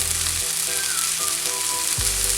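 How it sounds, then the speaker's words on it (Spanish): Guajillo chiles fry with half-sautéed vegetables for carne adobada, a loud, dense, continuous sizzle close by with a brief shift in tone partway through, no speech. "cuando ya estos vegetales estén medio sofritos, yo también voy a agregar por acá mis chiles guajillos"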